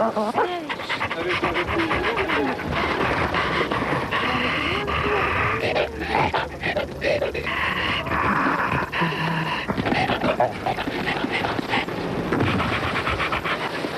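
A dog pants rapidly and continuously up close, with a voice talking over parts of it.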